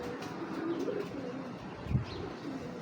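Belgian red checker racing pigeons coo softly nearby, low murmuring calls in a couple of short bursts over a quiet background.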